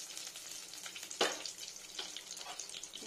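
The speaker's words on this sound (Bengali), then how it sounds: "এটা বিলো টেম্পারেচারে একটু ফ্রাই করে নেবো" Dry fruits fry at low heat in a pan during home cooking, giving a soft, steady sizzle with one brief louder crackle partway through; no one speaks.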